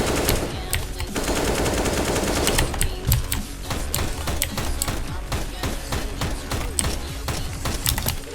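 Rapid automatic gunfire from the shooter game CS:GO, loud sustained bursts of close rifle fire crackling continuously with dense overlapping shots throughout.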